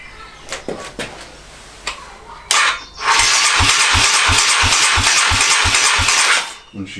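A Honda CBR 125R motorcycle cranking on its electric starter during bike preparation: a steady, rapid run of rhythmic starter pulses for about three and a half seconds, close and loud, without the engine catching.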